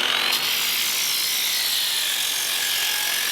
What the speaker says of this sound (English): So here's a raw edge that's just chiseled with that grinder blade. And then we're going to sand it right here.